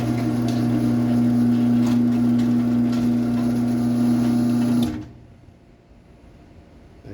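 A LiftMaster 1245/ATS garage door opener drives a small mini door with a steady, loud motor hum and drone for about five seconds, then stops abruptly, leaving faint room noise.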